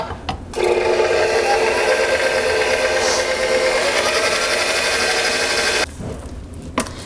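A KitchenAid stand mixer mixes dough as flour is worked in, a steady loud motor whine and hum running for several seconds before cutting off, with a few clunks at the start and end.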